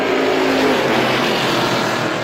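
Strictly Stock race cars roar away together at the start of a heat at Star Speedway, a loud, dense wall of engine noise that holds steady throughout without any talk.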